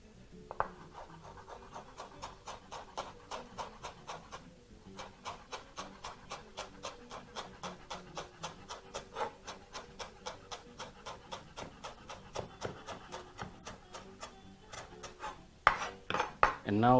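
Fresh coriander leaves chopped finely with a knife on a board for vegetable githeri, a fast, steady run of close, crisp knife taps with a short pause near the middle.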